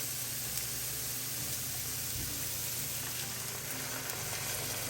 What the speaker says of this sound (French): Je vais déglacer avec le vinaigre de cidre.